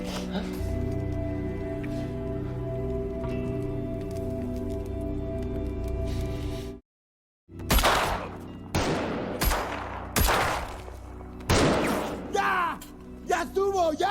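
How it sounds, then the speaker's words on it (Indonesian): Gunfire in a film scene: after a sustained rumbling music-and-noise bed and a brief silence, several sharp loud gunshot bursts ring out close up, mixed with shouting voices. "Josepo berhasil melepaskan satu tembakan yang mengenai leher Polo"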